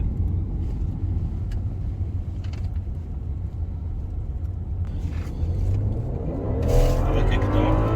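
A BMW X-series turbocharged engine hums and rumbles steadily from inside the car during a test drive, then rises as the throttle opens near the end, with someone talking over it.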